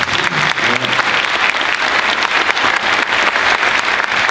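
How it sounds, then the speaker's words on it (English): A school band's winter concert audience applauds a drummer, the steady clapping loud and close for the whole stretch, with a few faint low tones early on and no talk over it. "Round of applause for Mr. Ben Ward on the drums."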